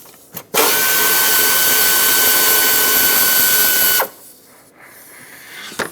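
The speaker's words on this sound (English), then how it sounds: "Use a 10mm socket to unbolt this." A powered ratchet with a 10mm socket spins out a bracket bolt on a Ford E-350 5.4L V8 intake: one loud, steady whirring run of about three and a half seconds, close up, after a brief tap, then quiet workshop air.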